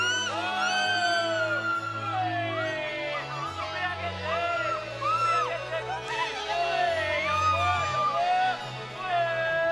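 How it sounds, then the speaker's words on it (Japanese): A woman shrieks and whoops repeatedly while riding a giant swing out in open nature in Indonesia, her high wavering cries loud and close over a steady low hum, with other voices talking around. "大自然の中に私の悲鳴がこだましました"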